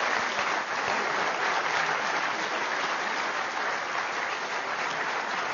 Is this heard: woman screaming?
no